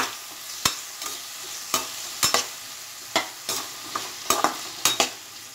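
Chopped vegetables fry in hot oil with salt and turmeric. A constant sizzle runs beneath about a dozen sharp, irregular scrapes and clacks of a spatula stirring the pan.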